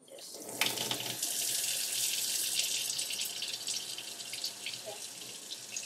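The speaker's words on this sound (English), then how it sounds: "you're gonna fill the sink to about half." Tap water runs steadily into a sink being filled about halfway for denture care, a close continuous rushing splash with no talking.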